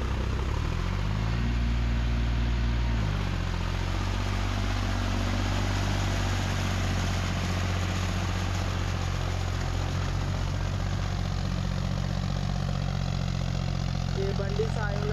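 A Kubota L4508 tractor stuck in mud runs its engine continuously, a steady loud rumbling drone that shifts pitch early on as it strains free, with people talking over it.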